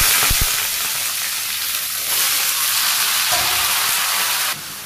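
Vegetables and fish frying in hot oil with panch phoron five-spice in a Bangladeshi village kitchen. A loud, steady sizzle hisses close by, with brief stirring knocks near the start and no voices.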